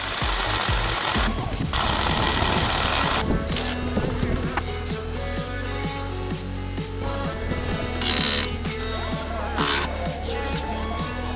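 Rotary hammer chipping excess material off an expanded-clay concrete block, loud rapid rattling hammer blows in bursts with brief pauses and tool whine between.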